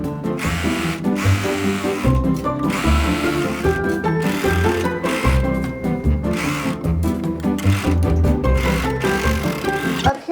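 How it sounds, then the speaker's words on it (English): Serger overlock machine stitching a garment bag, a loud, rapid mechanical whirring that runs in bursts with brief pauses between stitching runs, close and continuous. "This down here, I'm just going to sew with the sewing machine, but the rest is going to get serged."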